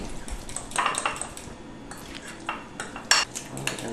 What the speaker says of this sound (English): And then now just whisk it all together.